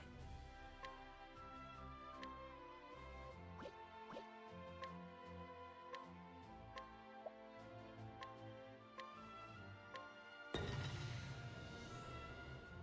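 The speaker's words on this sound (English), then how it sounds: "There's a blob of water." A blob of water drips in a video game, giving a steady series of soft plinking drops over layered game music, followed by a sudden louder wash of noise near the end.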